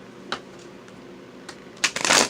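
Tarot cards are handled with a few scattered soft taps, then a quick, dense riffling shuffle bursts out near the end, close and fairly loud.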